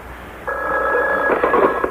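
A telephone rings in a 1982 New York AM radio studio, one clear electronic trill lasting over a second, fairly loud against a quiet room hum with no voices.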